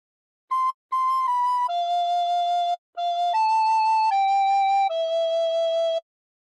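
Recorder plays a slow phrase of How Great Thou Art, about eight clean sustained notes with short breaths between, close and clear with no voices.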